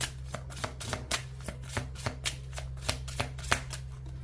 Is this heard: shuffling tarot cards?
yes